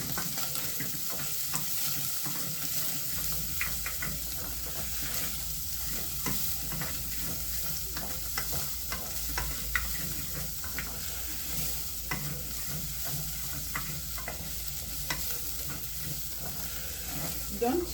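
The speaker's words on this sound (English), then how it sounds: "You go in with the onion and stir." Chopped onions sizzle in a hot pan for a matoke and beef stew, a constant frying hiss broken by repeated scrapes of stirring, close and steady throughout.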